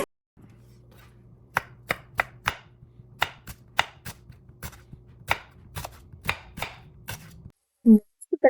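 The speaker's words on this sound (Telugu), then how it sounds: "పన్నీర్ కన్నా ముందు ఆనియన్స్ని స్లైసెస్ కింద చేసుకోవాలి" A knife slices onions on a cutting board in a quiet kitchen, with about fifteen sharp close chops at an uneven pace over a faint hum, ending with a couple of louder knocks.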